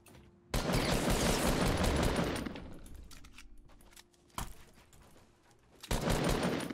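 Bursts of rapid gunfire as players fight in Fortnite Battle Royale, a sustained volley up front and more shots later, heard from a short distance behind.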